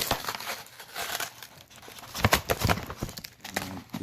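Boot packaging, a box and wrapping around Belleville cold wet weather Gore-Tex boots, is torn and crumpled close by in quiet bursts of crinkling and ripping, with a louder flurry of tearing midway.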